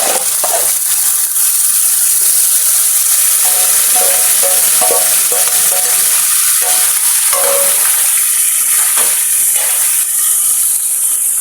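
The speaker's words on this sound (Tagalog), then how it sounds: "pwede na natin ilagay yung na-marinate natin kanina na karne" Marinated pork hitting a hot pan with sautéed onion and garlic, a loud, dense, steady sizzle and hiss with occasional stirring scrapes, close up and continuous, with no talking.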